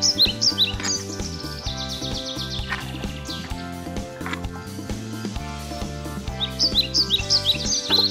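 Bright bird chirps and tweets trill over a playful musical backing during toy play with a Playmobil animal ark set, bunching at the start and again near the end.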